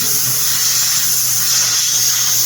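A spray gun atomizing thinned paint onto a quarter-scale Old Man He-Man figure gives a steady, close, broadband hiss that runs throughout with a slightly uneven, sputtering texture and no voice over it.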